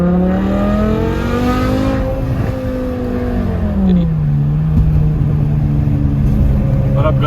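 BMW E60 M5 sports car engine revving loudly and continuously, with rising and falling pitch as the throttle swells and eases, close by, while someone talks over it.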